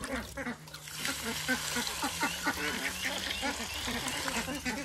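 Ducks quack loudly and continuously in a busy, overlapping chorus as they are given paddy grain and water, with voices in the background.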